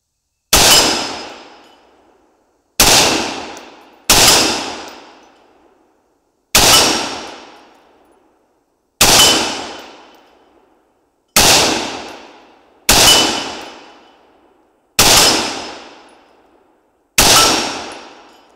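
A 25/45 Sharps AR-15 rifle fires about nine separate shots at steel targets, each a loud, sharp crack with a ringing decay, spaced irregularly one to two seconds apart, with no talk.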